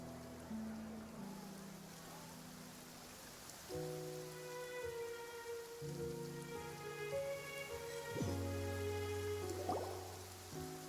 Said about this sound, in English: it really is raining for the first time in Genshin